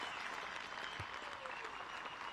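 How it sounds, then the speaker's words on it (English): Crowd applause and cheering at a European disc golf festival after a women's final-round fairway shot, steady and dense throughout, distant and moderately quiet. "Listen to that crowd, Juliana."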